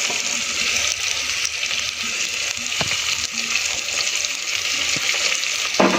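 Tomatoes and capsicum hit a hot pan for Gujarati fada khichdi, setting off a steady, close sizzle with a brief stir and clatter partway through.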